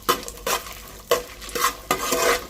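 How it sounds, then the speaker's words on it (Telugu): Dried red chillies fry and are stirred in a pan on low heat, with a spoon scraping in several short, close strokes over a soft sizzle; there is no talk. "లైట్గా మాడకుండా కొంచెం సిమ్లో పెట్టి వేయించుకోవాలి"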